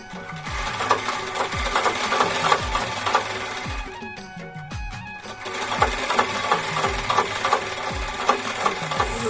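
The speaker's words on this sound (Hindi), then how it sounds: "फिर चलो सिलाई करते हैं" A sewing machine stitches steadily up close, its rapid needle thumps running in an even rhythm with a short slowdown midway before resuming.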